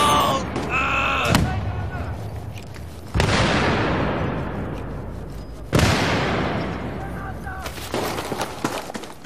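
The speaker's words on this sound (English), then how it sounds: "Heads up! I'm throwing a grenade!" A grenade in Battlefield 3 on PS3 goes off in loud booming blasts, two heavy explosions rolling away into rumble, with voices heard around them.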